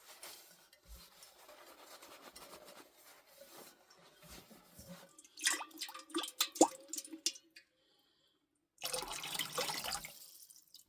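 Water trickles and drips into a two-part ceramic water filter inside a camper van, soft and close, with a brief louder splashing stretch midway, a short silence, then a steadier gush near the end.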